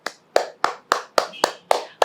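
Eight sharp, evenly spaced hand claps ring out close and loud in a quick steady rhythm over about two seconds, with brief quiet gaps between.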